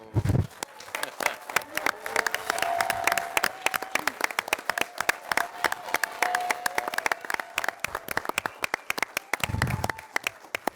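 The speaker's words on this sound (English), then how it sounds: "Let's give them a well-deserved round of applause." Enthusiastic applause from a city council meeting audience in Forest Park honoring a championship team, dense clapping sustained for about ten seconds with some cheering and voices mixed in.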